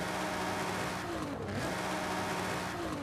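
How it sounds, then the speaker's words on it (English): A car engine in Forza Horizon 5 revs up and down with no anti-lag, a loud steady engine roar with rising and falling pitch sweeps throughout. "If I rev the car without anti-lag"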